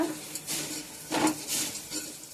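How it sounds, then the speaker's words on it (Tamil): A spoon stirs lentil spinach with asafoetida in a cooking pan. A few soft scraping strokes come in quick succession against quiet background sizzle. "பெருங்காயம் போட்டு ஒரு 2 நிமிஷம் நல்லா கிண்டி விடுங்க."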